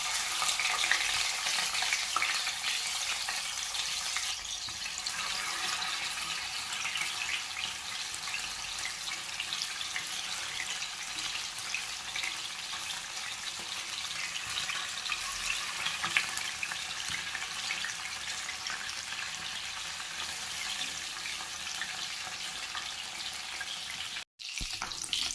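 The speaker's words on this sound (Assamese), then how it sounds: "কেৰাহী গৰম হৈছে, এতিয়া মই মিঠাতেল দি দিম। প্ৰথমে মাছখিনি ভাজি ল'ম।" Fish fries in hot mustard oil in a kadai, giving a loud, continuous sizzle that holds steady with no voices.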